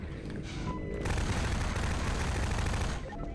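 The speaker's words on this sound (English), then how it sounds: "And these grenades are, of course, smoke grenades, really, the model. But they act as frag grenades." Grenade explosions and gunfire from Half-Life 2, a PC first-person shooter. A sustained, loud barrage of blasts and crackling shots fills most of the stretch after a brief lull, then drops away near the end.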